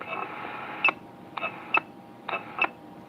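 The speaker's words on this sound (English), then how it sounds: "That sounds like a Roger beep on an RCI 2950." An RCI 2950 CB radio sends short electronic roger beeps, several quick tonal chirps in pairs and clusters over a low hiss of radio static.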